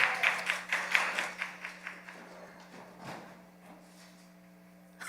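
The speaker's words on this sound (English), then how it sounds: "Let's clap him up as he comes with prayer" An audience at a youth gathering claps for a speaker coming up to pray. The applause starts fairly close and lively, then thins out and fades to a few scattered claps.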